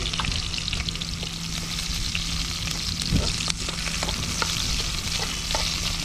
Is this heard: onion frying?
yes